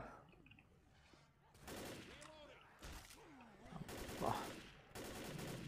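Bursts of automatic gunfire in the Left 4 Dead zombie shooter's No Mercy hospital chapter, heard as loud repeated volleys that come and go over a crowd of snarling infected, with someone talking under the shooting.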